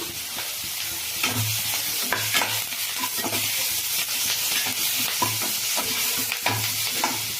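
Curry leaves and tamarind fry in a pan while being prepared for a brinjal fry and chutney, with rhythmic stirring scrapes over a constant close sizzle.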